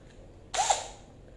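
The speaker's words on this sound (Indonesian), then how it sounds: "cukup mantap sih bor Rio ini yang 20 volt ya" A Rio 20-volt cordless drill, its battery at two to three bars and used for fiberglass work, whirs in one short burst of about a third of a second, close by, with quiet around it and a faint click at the end.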